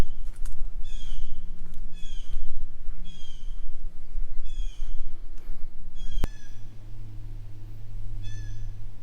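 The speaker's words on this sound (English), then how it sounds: "You can hear the birds." Birds call repeatedly in a lakeside forest, harsh squawking cries at a moderate distance over a low steady hum, in a series of separate bursts.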